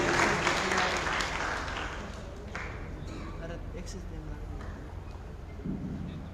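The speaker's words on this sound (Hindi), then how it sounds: "जोरदार तालियां उनके लिए।" Applause from an audience at a school award ceremony, a dense clatter of many clapping hands that fades slightly and continues steadily, with a voice faintly heard over it.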